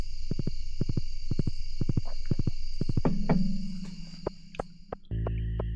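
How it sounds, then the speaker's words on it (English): A horse in the Stardew Valley video game trots with quick, regular clip-clop hoofbeats in close groups, set over a steady insect-like ambient chirr and game background tones. "Haven't used my horse all day."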